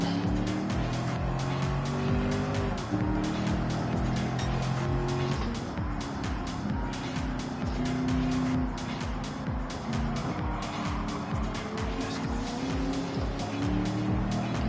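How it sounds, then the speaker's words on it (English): Lamborghini race car in Gran Turismo 7 racing, its engine droning and revving steadily with tire squeal, and other cars passing nearby throughout. "Oh, the old Lamborghini."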